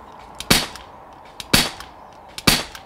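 A spring-piston air rifle fires three sharp shots at even one-second intervals over a chronograph, each a loud close snap preceded by a faint click, with no voices.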